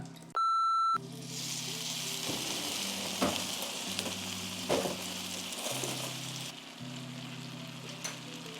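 Steady sizzling of Korean dumplings frying in a pan with oil, water and flour, with a short electronic beep at the start and occasional clinks of a utensil.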